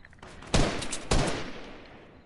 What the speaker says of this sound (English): He's shooting in the bush.